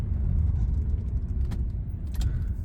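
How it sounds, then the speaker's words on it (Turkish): A car approaches on the road from behind, heard from inside a moving vehicle as a steady low rumble of road and engine noise with a few faint clicks and rattles. "Bakın arkamdan araba yaklaşıyor şu an."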